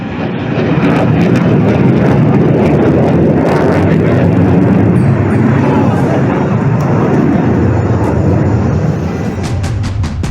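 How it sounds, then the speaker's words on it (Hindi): Tejas fighter jet flying at the Dubai Airshow, a loud, steady roar of jet engine noise that fills the whole stretch, with a few brief sharper bursts on top. "फाइटर जेट को दुबई में जारी एयर शो में उड़ाता है।"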